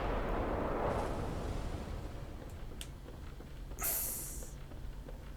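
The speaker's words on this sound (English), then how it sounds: "the freaking undead giants hanging around with the damn cannon arms" A booming cannon blast from an undead giant's cannon arm in Bloodborne rolls out under a dense, noisy game soundscape, followed moments later by a second sharp burst.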